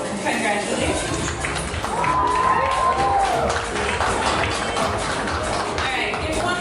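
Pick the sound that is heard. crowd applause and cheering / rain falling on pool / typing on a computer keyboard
crowd applause and cheering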